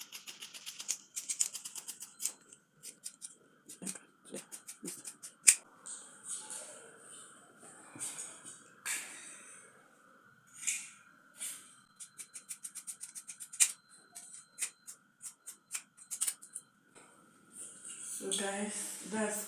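Scissors snip through fabric while palazzo trouser pieces are cut from a pattern, a run of quick close clicks and rasps with pauses and occasional rustling of cloth, and a person talks now and then alongside.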